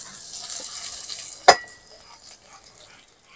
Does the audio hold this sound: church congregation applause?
no